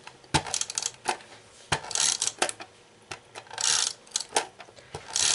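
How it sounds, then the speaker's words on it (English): Tape runner rolling adhesive onto paper for a handmade tag: sharp clicks and short scratchy rasps in irregular bursts, close up and fairly loud, with no talking. "I'm going to use my tape runner for this"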